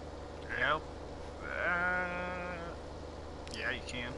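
Sheep bleat in the Farming Simulator 17 farming game: three drawn-out, wavering calls that are close and clear, the middle one longest, over a steady low background hum.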